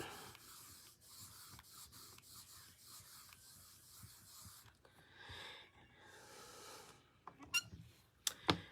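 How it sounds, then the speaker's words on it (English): Paper rubbed firmly over a stamp laid on a plate, heard as a steady run of close, soft scraping and rubbing strokes in quick rhythm, followed by quieter shuffling and a few sharper taps near the end, with no talk. "We're going to rub this over that."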